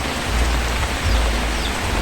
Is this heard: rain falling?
yes